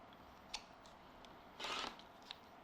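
Scissors cutting quilting fabric close by, a faint snip followed by one short, louder crunching cut and a small click, over a quiet room hiss.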